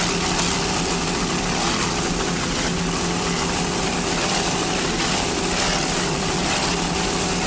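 A helicopter films a Mercury Cruiser-powered powerboat racing at the Key West World Championships, a loud, constant rotor and engine roar mixed with water and boat engine noise, steady throughout with no talk.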